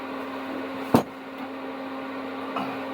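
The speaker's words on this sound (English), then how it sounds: "I've got to shout over the extraction fan" A workshop extraction fan hums steadily with a constant tonal drone and airy noise, moderately loud, broken once by a sharp knock and later by a faint clink.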